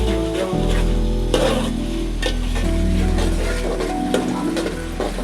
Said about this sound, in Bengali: মাংসটা কষিয়ে এই যে দেখেন